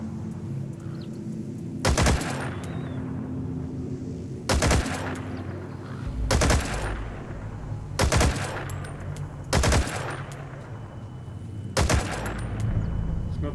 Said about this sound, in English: Oh, they are actually shooting back.